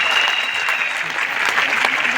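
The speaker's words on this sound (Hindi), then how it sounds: "एक बार जोरदार तालियां उनके लिए।" An audience at a company business event bursts into loud, sustained applause, a thick continuous patter of many hands clapping close by.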